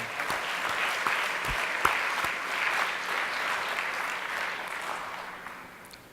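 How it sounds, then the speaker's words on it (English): Applause from an audience at a Distinguished Alumni Award ceremony, a steady wash of clapping heard alone that fades slightly toward the end. "please, a round of applause for all of them"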